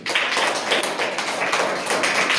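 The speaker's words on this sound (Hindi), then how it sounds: "तो इसके लिए ताली बजाइए" Children clap their hands together in a school classroom during a Children's Day celebration, a dense, steady patter of many small palms sustained throughout, close and fairly loud with no talking over it.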